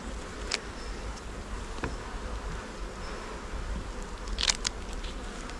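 Honeybees buzz around an opened hive during a frame inspection, a faint, steady hum with occasional individual bees droning close by in brief louder passes.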